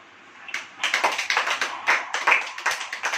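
A church congregation claps hands during a Hindi sermon, a dense run of many overlapping claps in an uneven rhythm, fairly close and loud, with no talking.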